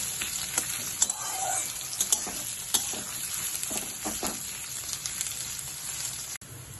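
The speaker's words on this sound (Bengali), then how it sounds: "এই পেঁয়াজগুলোকে লাল হওয়া অবস্থা পর্যন্ত ভাজবো।" Onions sizzle and fry in a pan, cooked until reddish-brown for chicken bharta, with a constant crackling hiss and irregular scraping knocks of stirring throughout. No voices.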